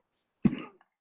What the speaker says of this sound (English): let me finish this cough. It seems the pollens are causing my